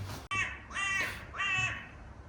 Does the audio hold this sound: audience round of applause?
no